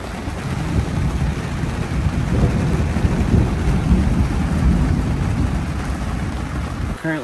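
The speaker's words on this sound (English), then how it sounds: "there's a bad thunder and rainstorm right now. It's absolutely coming down." Heavy rain pounds down in a dense, continuous roar during a nighttime thunderstorm at a campsite, with low rumbling thunder mixed in, loud and close throughout.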